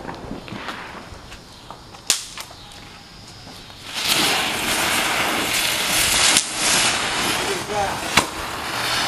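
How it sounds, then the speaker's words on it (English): A spinning firework lit by mistake at a July 4th family gathering builds into a loud, broad hissing whoosh with sharp cracks at the start and along the way, while voices talk nearby. "Tiffy, I lit the wrong thing. Yeah, Mom, that wasn't a firecracker"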